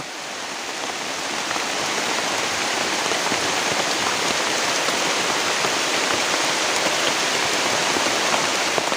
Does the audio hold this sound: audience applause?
no